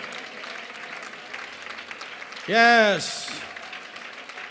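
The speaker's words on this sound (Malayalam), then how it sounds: "നിങ്ങൾ നന്നായി കൈയടിക്കുക." An audience at a Christian prayer meeting claps steadily throughout, a moderate patter of many hands, while a voice briefly rises in a loud sung or shouted exclamation over it.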